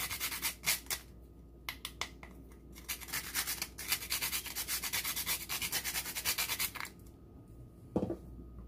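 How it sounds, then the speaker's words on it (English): Whole nutmeg is rubbed over a grater in quick, repeated scraping strokes, bursts of rasping with short pauses and a single sharp tap near the end, close and clear with no talk. "I prefer to grate my nutmeg"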